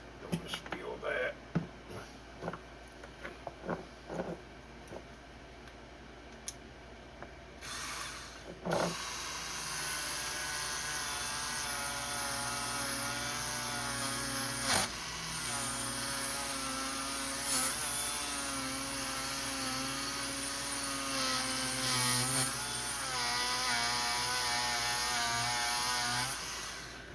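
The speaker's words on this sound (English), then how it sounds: "Let's see how the Dremel tool does on it." A Dremel rotary tool grinds on a part from a Coleman 502 camp stove: after some quiet handling clicks and taps, a loud, high, steady whine starts and runs continuously, its pitch shifting slightly under load, with a voice speaking over it.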